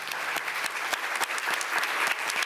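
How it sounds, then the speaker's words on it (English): An audience at a Cannes film festival press conference applauds, a dense, even patter of hand claps sustained at moderate distance for the whole stretch. "please give her"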